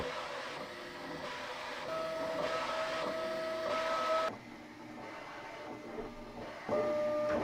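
Steady mechanical whirring from a Bambu P1 3D printer running motor noise calibration, with sustained tonal hums that shift pitch in steps, a motor drone running continuously with no voices.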